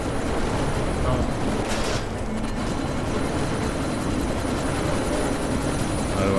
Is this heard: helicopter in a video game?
yes